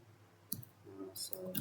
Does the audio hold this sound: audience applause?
no